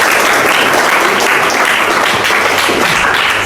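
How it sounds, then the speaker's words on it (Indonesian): Students in an 11th-grade classroom clap together, a loud, dense and steady round of applause that continues without a break. "Silakan tepuk tangan untuk kalian semua."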